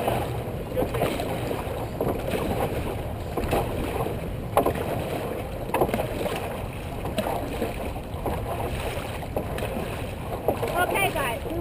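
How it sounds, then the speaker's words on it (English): Dragon boat crew paddling together on open water during a practice session, steady rhythmic splashing and paddle strokes under constant wind rumble, with occasional voices from the boat. "Get ready to paddle. Take it away."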